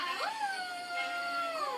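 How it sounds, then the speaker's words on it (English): Wolves in a children's audiobook story give one long, rising, wavering howl that blends with a second voice, heard clearly and on its own against a quiet background. "all the wolves were howling too"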